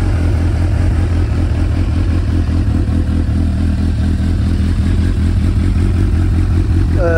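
A 2008 Honda CBF 1000SA motorcycle running with its dB killers removed, giving a steady, loud, deep bass-heavy engine rumble held close and unbroken throughout.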